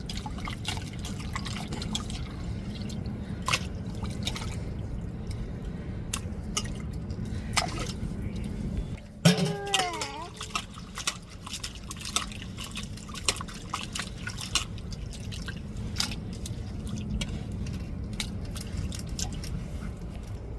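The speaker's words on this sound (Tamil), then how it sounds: "நம்ம வெட்டி எடுத்த கருவாட்டை நம்ம நல்லா அலசி இப்போ சோத்தில் சேர்த்துருவோங்க" Washed, cut dried fish is added to a pot of soft-cooked rice. A quiet backdrop of drips and wet liquid sounds leads to a close, squelching splash of the fish going in, followed by softer wet stirring.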